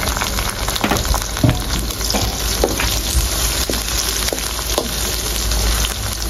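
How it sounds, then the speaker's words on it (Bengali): Green chilies fry in hot oil with already browned onion and garlic, producing a continuous close sizzle broken by occasional stirring clicks and scrapes. "পেঁয়াজ রসুন ভাজা হয়ে গেছে, এখন দিয়েছি কাঁচামরিচ"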